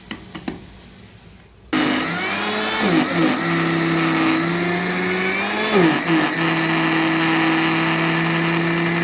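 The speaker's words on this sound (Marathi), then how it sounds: "आता थोडंसं पाणी वतून मिक्सरला लावून घेऊया बारीक असं" A mixer grinder starts up abruptly and whirs loudly and steadily grinding idli batter with a little water, its pitch dipping briefly a couple of times, with no talking.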